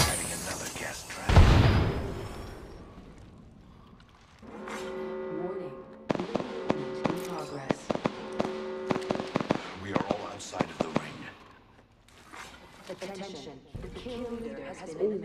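Frag grenade going off in a battle royale video game: a sharp, loud blast early on, followed by a scatter of crackling pops and game sounds, with a voice talking intermittently through it.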